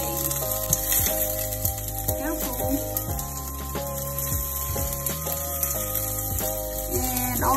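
Oil frying in a pan while carbonara is cooked, a steady close sizzle running throughout, with clatter of the pan and utensils, low music-like tones, and faint voices in the background.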